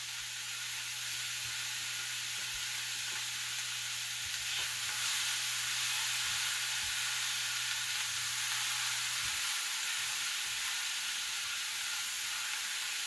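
Shredded cabbage frying in a home-cooking pan gives a continuous soft sizzle and hiss, faint and even from start to finish, over a low steady hum, with no talking.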